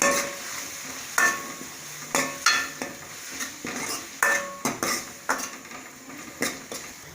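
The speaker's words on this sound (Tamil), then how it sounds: "தக்காளி நல்லா வணங்கட்டும்." Onion and tomato sauté in a pan for a green gram curry, a metal spoon clanking and scraping against the pan in regular strokes over a soft background sizzle.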